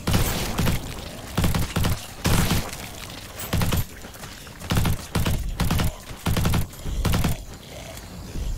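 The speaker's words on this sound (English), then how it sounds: "Those are the nail guns." Nail guns fire in a zombie tower defense shooter game, giving repeated short bursts of rapid mechanical clatter separated by brief pauses, loud and close.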